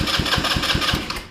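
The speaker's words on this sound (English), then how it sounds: "as soon as I will turn the key to the start position, the engine should spin" A small go-kart 150 engine cranks and sputters to life with a rapid, regular chugging rhythm, close and loud, then starts to fade.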